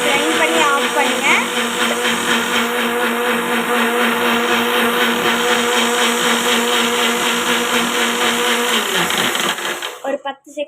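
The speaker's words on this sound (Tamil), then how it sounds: "ஒரு 10 செகண்ட் கிரைண்ட் பண்ணி ஆஃப் பண்ணுங்க." An electric blender grinds an Oreo milkshake at high speed, a loud, steady whirring roar for about ten seconds before switching off and winding down abruptly.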